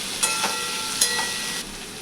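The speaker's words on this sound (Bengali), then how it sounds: "আলুটা একটু ভালো করে পেঁয়াজের সাথে ভেজে নিতে হবে লাল করে।" Potatoes frying with onions in a pan for a mushroom curry: steady broadband sizzle throughout, with a few brief louder crackles and stir sounds, no talk.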